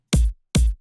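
Two hits of an unfiltered X for Records kick drum sample ring out back to back, deep and booming with heavy low end and a sharp attack, loud and solo.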